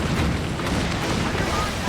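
Ship cannons fire in a naval battle in Assassin's Creed Black Flag, a dense, continuous rumbling roar of booming blasts with no clear gaps.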